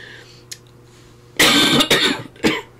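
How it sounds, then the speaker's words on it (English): Several harsh, close coughs in quick succession, loud and raspy, following a quiet stretch with faint background hum. "I'm going to cough."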